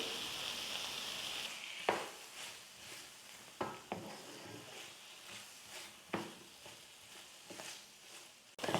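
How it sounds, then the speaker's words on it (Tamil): Chicken sautéing with garlic and pepper powder in a pan: a steady sizzle runs throughout, punctuated by several sharp clinks and scrapes of stirring, close and fairly quiet, with no talking. "மிளகுத்தூள் சேர்த்துட்டு 2 நிமிஷத்துக்கு நல்லா நான் வதக்கிட்டேன்."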